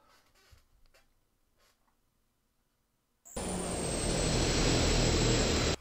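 Airplane engine in Arma 3, a loud steady roar that starts abruptly after about three seconds of near silence with faint clicks, then holds constant to the end.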